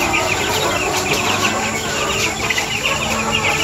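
Broiler chickens about two weeks old crowd a pen on a chicken farm, producing a dense, continuous chorus of close cheeping and clucking that stays loud throughout.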